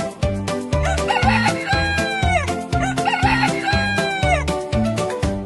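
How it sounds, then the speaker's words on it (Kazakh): A rooster crows twice over a steady, rhythmic backing of repeated low notes. The crowing is moderately loud and separated by a few seconds, with no voices. "Дұрыс, бұл әтеш."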